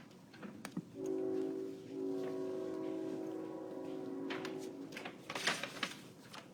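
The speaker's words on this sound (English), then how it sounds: "I hear a train again" A train passes at a distance outside a stamping craft class, its horn sounding as a sustained chord for a few seconds under low rumble, followed by faint noises.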